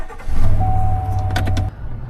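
A diesel farm truck's engine hums loud and close for about a second and a half with a steady low drone, then cuts off abruptly, leaving quieter background noise.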